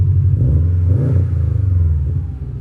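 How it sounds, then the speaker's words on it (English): A 2016 Subaru WRX STI Limited's exhaust revs up and falls back in a loud, throaty burble close by, with no voices. "You can see what I mean about that NVIDIA exhaust."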